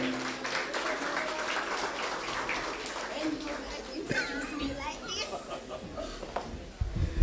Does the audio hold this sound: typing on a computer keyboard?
no